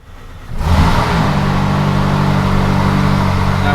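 A car engine starts abruptly and settles into a loud, steady, close roar that continues without a break; the car has no park gear and no emergency brake.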